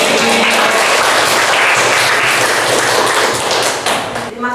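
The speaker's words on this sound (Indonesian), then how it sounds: "Tepuk tangan." Classroom students clap together in a dense, steady burst of applause that fills the room, holding loud and close before tapering off at the end.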